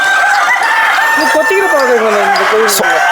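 Chickens on a farm, including Sonali chickens, cluck and call loudly close by, some calls drawn out into rising and falling cries over a constant barnyard din.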